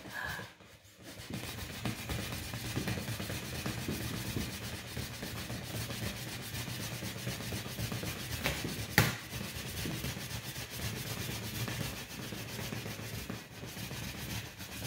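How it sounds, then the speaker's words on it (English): An object is rubbed briskly to build up static charge, a steady continuous scratchy rubbing that goes on for the whole stretch, close and moderately loud, with one sharp tap partway through. "I think we need to do a little bit more rubbing"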